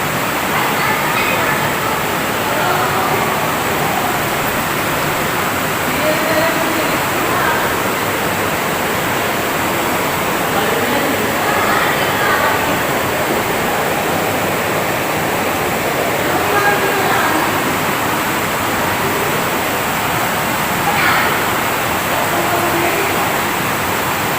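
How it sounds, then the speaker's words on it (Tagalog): Continuous rushing water in a dark cave fills the space with a loud, steady roar, while faint voices talk beneath it now and then. "Yan yung tubig."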